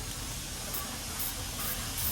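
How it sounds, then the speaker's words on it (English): Rust converter sprays in a steady, continuous close hiss onto rusty rear trim on a Sprinter van, holding even for the whole stretch. "So I'm just gonna spray this."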